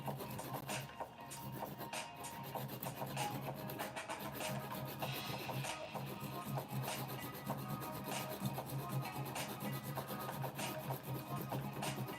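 An 80/80 grit nail file shapes polygel nails on a practice hand, producing continuous close raspy strokes in a fast, steady back-and-forth rhythm with no talking.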